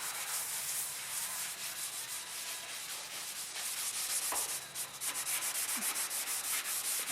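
A Scotch-Brite abrasive pad scrubs the rusty steel roof of a 1967 Ford Mustang in steady back-and-forth strokes, a continuous close rasping hiss with no talking.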